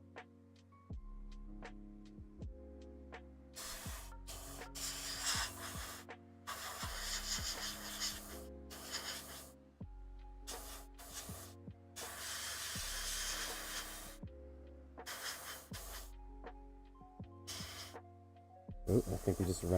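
Warhammer 40k miniatures are spray primed from an aerosol can in repeated bursts of hiss, each a second or two long, separated by pauses, with music playing underneath throughout.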